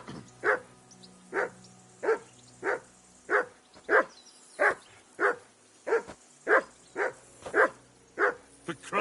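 A dog in Kingdom Come: Deliverance II barks again and again, sharp close barks spaced at an even, steady rhythm, with no talk over it.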